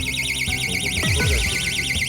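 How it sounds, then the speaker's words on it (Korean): A window-open burglar alarm installed in a home blares a loud, continuous warbling electronic siren, steady and close throughout. "창문이 열리자마자 경보음이 크게 울립니다."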